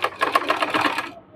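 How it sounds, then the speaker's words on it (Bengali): A sewing machine runs in a quick, even clatter as it stitches fabric piping, close and fairly loud for about a second before stopping. "পাইপিংটিকে আমাদের সেলাই করে নিতে হবে।"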